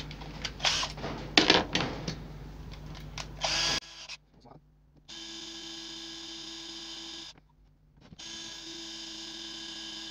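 A drill bores into a bandsaw fence clamp during a DIY repair, starting with short clattering bursts and then settling into steady high whining runs broken by brief pauses, close and fairly quiet.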